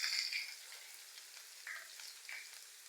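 Chopped onions frying in a pan for pangas fish bhuna give a faint, thin, high sizzle that swells briefly a few times, quiet and without speech.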